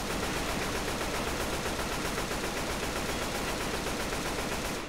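Sustained automatic gunfire from players shooting zombies in Left 4 Dead 2, a dense, continuous rattle of rapid shots at steady loudness throughout with no pauses.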